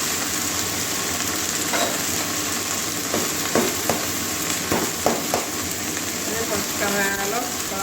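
Onions and cabbage fry in a pan with a constant close sizzle and hiss, broken by several scraping stirs of a spatula.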